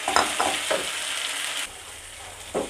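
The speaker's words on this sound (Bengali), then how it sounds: "মশলাটা ভালো করে মোটামুটি ভালো কষানো হয়ে গেছে" Spice paste sautéing in a hot pan for mustard pabda fish, a steady close sizzle broken by a few scraping stirs, with the fizz easing partway through and another stir near the end.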